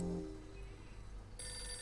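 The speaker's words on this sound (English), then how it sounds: "It's the phone." A telephone rings in the video game Hotel Dusk: Room 215, a quiet electronic trill that starts, pauses briefly, then rings again.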